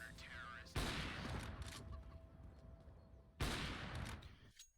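Gunfire fired through smoke in Counter-Strike: Global Offensive, two sharp broadband bursts of shots about two and a half seconds apart, fairly faint, with a soft tone and quiet background between them.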